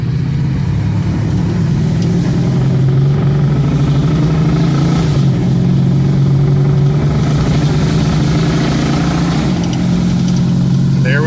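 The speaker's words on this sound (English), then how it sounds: "I'm just gonna keep driving it until it doesn't want to be driven anymore." A car's engine drones steadily and loudly from inside the cabin, with a constant low hum and road rumble that holds even for the whole stretch and never builds or fades.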